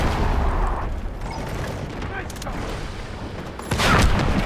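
AK-12 rifle fire in the shooter game Delta Force rattles through a busy battle mix, with bursts of shots and louder booms toward the end. Excited voices talk over the gunfire.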